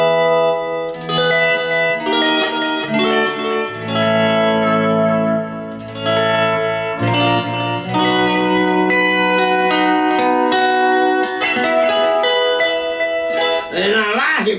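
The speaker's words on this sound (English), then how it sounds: "this is a Dunlop volume pedal" Lap steel guitar played through a Dunlop volume pedal, with sustained chords and notes swelling in and out under a wash of effects, reverb and echo, loud and continuous throughout with no talk.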